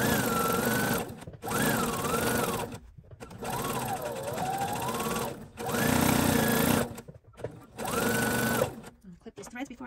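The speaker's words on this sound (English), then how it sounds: "I'm going to do a fixed stitch or a back stitch and sew all the way around directly on that line" A sewing machine stitches fabric along a drawn line for a drawstring bag, running in four or five close, loud bursts separated by brief stops, with a soft whirring rise and fall in each run.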